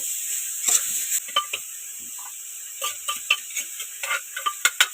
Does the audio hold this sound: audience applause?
no